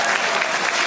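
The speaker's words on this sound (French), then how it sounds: "ce qu'on peut applaudir très fort pour lui" Wedding guests applauding at a Cameroonian wedding celebration, a brief, steady burst of dense clapping from a crowd, heard close and fairly loud.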